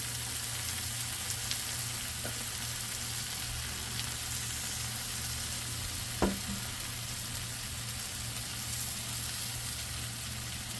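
Big, fat shrimp laid on a hot griddle sizzle steadily and loudly for the whole stretch, with a faint clink of a utensil partway through, while surf and turf smash burger tacos are made.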